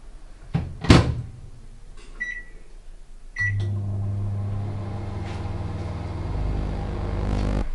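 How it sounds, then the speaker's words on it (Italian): A microwave oven hums steadily as it runs to soften a pumpkin, after a door thunk and a couple of beeps at the start. The loud, continuous drone carries on to the end. "3 minuti e mezzo in microonde."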